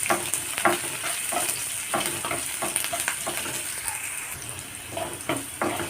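Onions are stirred and sautéed in a pan, giving a steady sizzle broken by repeated rhythmic scrapes and knocks of a spoon against the pan, close and moderately loud.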